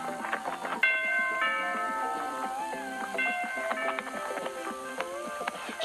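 Cartoon doorbell chimes ring out as a bright, tuned melody of bell-like notes, several tones struck in sequence with steady rhythm, loud and close with no talking over them.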